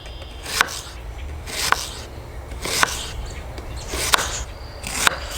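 PKS Campmaster knife with a 3/32-inch blade chopping food on a board for camp hot dogs outdoors, five sharp evenly spaced cuts over a soft background hiss, with no talking.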